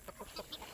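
Soft, faint clucking from chicks among free-ranging fowl on a homestead, a few brief calls spread across a short moment.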